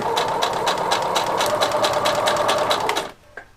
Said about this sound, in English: I'm sewing from the edge of the leather in the other end to the edge of the leather, stopping there.